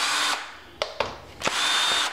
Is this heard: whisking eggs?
no